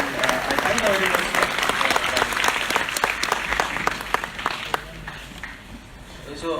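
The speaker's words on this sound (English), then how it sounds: "A good round of applause for him, and I thank the audience." Audience applause at a civil services exam preparation seminar, a dense sustained clapping from a large crowd that gradually thins toward the end, with faint voices mixed in.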